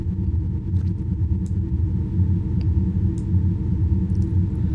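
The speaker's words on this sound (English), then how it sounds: "If I bring that down now, what you will start to hear is the engine will sound completely flat" Synthesized car engine sound built in Unreal Engine 5 for a video game, set so it sounds completely flat: a steady, even low rumble that holds at a constant level throughout with no revving or variation.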